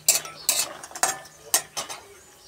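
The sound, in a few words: frying and stirring raw tomato in a pan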